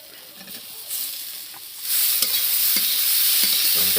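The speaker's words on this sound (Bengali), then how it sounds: "তো ফ্রেন্ড এবার আমরা দিয়ে দেবো টমেটো।" Tomatoes going into a pan of fried rice, a steady broad sizzle that swells louder about halfway through, with scattered stirring scrapes and taps over the continuous frying hiss.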